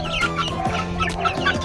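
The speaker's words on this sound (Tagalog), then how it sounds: "May mga manok po tayo." Chickens on a small farm cluck in short, close, overlapping calls over a brief moment.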